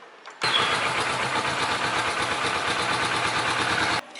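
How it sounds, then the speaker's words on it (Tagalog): A Kawasaki Vulcan S motorcycle engine starts after an oil change: a brief crank, then a loud, steady idle roar that holds evenly before cutting off abruptly. "Let's start the bike."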